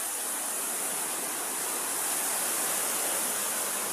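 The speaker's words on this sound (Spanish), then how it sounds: "se desbordó el río Guaire" Floodwater of the overflowing Guaire river in Venezuela rushes in a steady, dense roar, loud and unbroken, with no voices over it.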